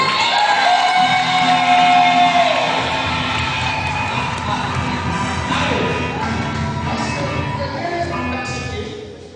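A church congregation acclaims the Lord with loud crowd cheering, shouts and whoops that swell early and then carry on steadily, a sustained mass of voices up close.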